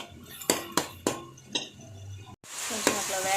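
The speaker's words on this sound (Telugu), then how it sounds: "కొత్తిమీర పుదీనా వేసుకుని ఇది మంచిగా వేగనివ్వండి" Coriander and mint frying in a pan for a meat bones curry, with sharp spoon scrapes and clinks against the pan over a steady sizzle, then a louder burst of frying after a brief break.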